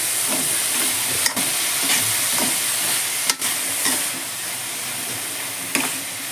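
Vegetables and beans stirred in a hot frying pan over a stove, a steady sizzle with intermittent scraping clicks of the spoon against the pan, fairly close and unaccompanied by voices.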